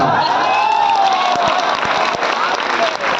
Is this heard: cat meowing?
no